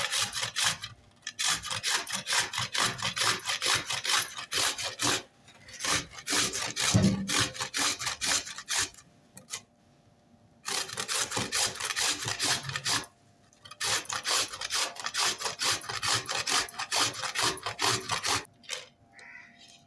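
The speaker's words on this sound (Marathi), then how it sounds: "आता आपण एक एक करून किसून घेऊया" Peeled radish pieces grated by hand on a grater, with rhythmic rasping strokes in long rapid bursts separated by short pauses, close and steady, with no talking.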